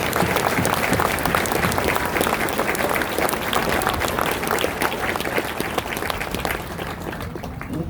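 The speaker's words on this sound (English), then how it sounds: "join me in a round of applause for the families of Kilo Company" Sustained applause from a large crowd honoring the families of Kilo Company at a Marine Corps Recruit Depot graduation, steady and dense throughout and easing slightly near the end.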